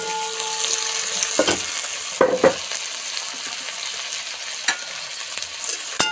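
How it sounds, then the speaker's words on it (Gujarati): Tomato and onion frying together in a pan, a soft steady sizzle with a few brief scraping bursts of stirring. "ટામેટાને પણ થોડુંક શેકી લઈશું।"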